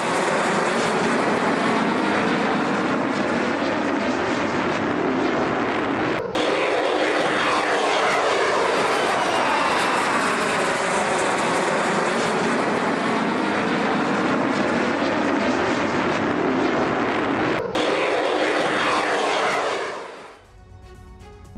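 Military aircraft roar overhead during a bombing raid, a loud continuous broadband engine rush that swells and holds for around twenty seconds before cutting off abruptly, with no voices.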